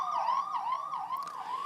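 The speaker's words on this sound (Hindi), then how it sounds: "गाड़ियों के सायरन सुनाई दिए।" A police vehicle siren wails in steady rising and falling sweeps during street unrest in Haldwani. It sounds loud and fairly close, with no talk over it.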